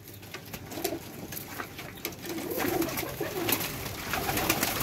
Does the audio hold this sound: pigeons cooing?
yes